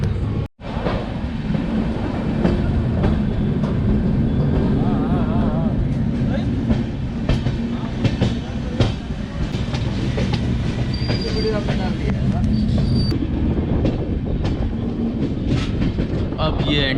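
A train slows as it enters Lucknow railway station, a loud, continuous onboard rumble of wheels on rails with occasional metallic squeals and clacks, and faint voices now and then.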